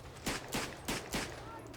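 Rifle fire in the Verdun first-world-war video game: four sharp, loud gunshots at roughly even intervals, each a short crack with a brief tail, over a low background rumble.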